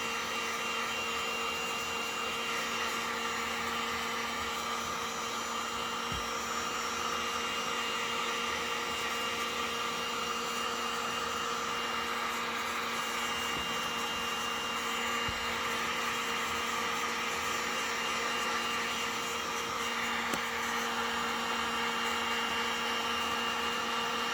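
Heat gun blowing steadily over a stick-on textured grip on a full-size M&P pistol, a constant loud whirring hiss with a high motor whine, unbroken and close.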